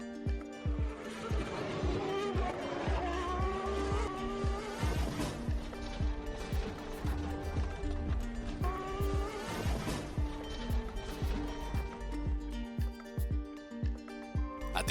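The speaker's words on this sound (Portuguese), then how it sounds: "rever o replay do momento em que Barrichello perde o controle do carro." A 1994 Formula One car engine roars and revs loudly at Imola while tires squeal in long skidding sweeps as it loses control, rising and falling across the stretch.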